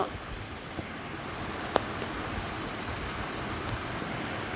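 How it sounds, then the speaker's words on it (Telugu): Wind blows hard and steadily, a dense broadband roar buffeting close to the microphone with a couple of faint clicks and no voices. "గాలి వస్తుంది రోయ్."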